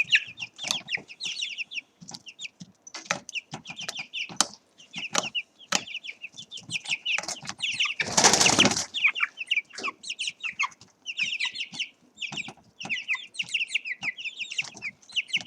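Young teenage-stage chicks cluck and peep in quick, chattering bursts close by, with a loud rush of wing flapping midway through; no voices are heard.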